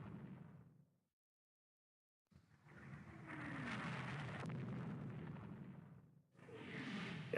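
Naval gunfire in the warship game Rule the Waves 2 hammers the German ship Hessen: heavy rumbling booms and a whooshing roar rise after a short silence and go on loud and sustained, with a final burst at the end.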